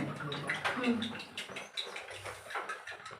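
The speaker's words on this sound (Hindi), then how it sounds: "तो हम लोग जो इसमें नमक डाले हैं, नमक को मिक्स कर रहे हैं।" Salt is stirred into petrol in a small container, giving a continuous sloshing, swirling liquid sound with faint scraping, close and steady at moderate loudness.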